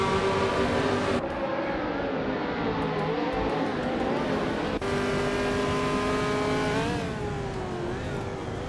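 Race cars running wheel to wheel, loud engines droning at high revs with pitch sweeps, abrupt cuts and gear changes as the note rises and falls, no speech.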